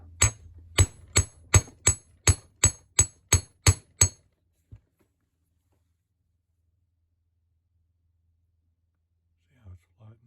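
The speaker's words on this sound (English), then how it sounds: "So what I'm going to do is get a hammer. I'm going to flatten this a bit." A hammer strikes lock pick wire about ten times in a steady, evenly spaced run of sharp metallic blows up close, followed by one lighter tap and then near silence.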